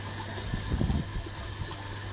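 Water drains out of a small aquaponics test tank, making a low, close gurgling and gushing that swells briefly near the start and then settles into a steady pumped trickle under a constant hum.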